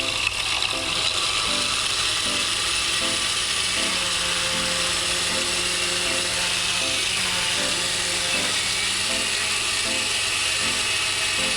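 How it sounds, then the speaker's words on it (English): A blender runs at high speed on guava and papaya juice, a loud, continuous motor whine with a rhythmic, grinding churn repeating steadily for the full stretch. "Blend it to between 3 minutes, high speed."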